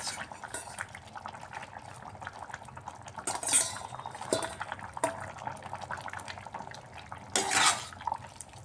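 Spoon scraping and clinking in a pan while rui fish curry with bottle gourd and potato is stirred, soft and close, with a few sharper metallic knocks and a quiet voice talking alongside.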